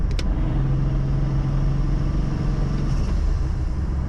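Single turbo BMW N54 engine holding about 2,800 RPM in fourth gear, a steady low drone with a constant hum, loud and continuous from inside the car, no voices.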